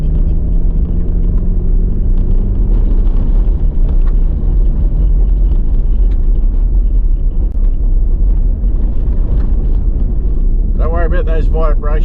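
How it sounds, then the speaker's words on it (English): Loud, constant four-wheel drive rumble and rattling vibration from driving on a corrugated road, with a voice starting to speak near the end. "Those vibrations, guys, that's just the joys of slight corrugations and noises you get from four-wheel drives"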